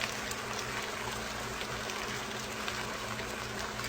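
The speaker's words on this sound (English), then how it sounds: "Let's go in with 1/2 cup of Italian dressing" Italian dressing pours steadily into a pan of green beans and potatoes, a continuous soft liquid hiss lasting throughout at an even level.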